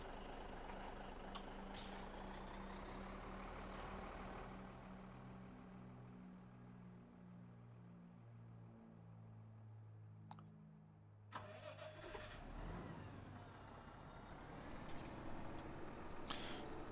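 Truck engine starting and idling in a farming video game: a loud rumbling engine with shifting tones and a brief air-brake hiss, then clunks and a rising rev near the end, no talking.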